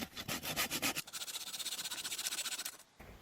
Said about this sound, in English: All right, now I'm sawing the spindle to length.